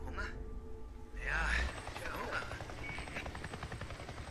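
Helicopter in the video game Days Gone, a steady rotor drone running through the whole stretch with a brief louder swell partway in, mixed with game effects and a voice talking over it.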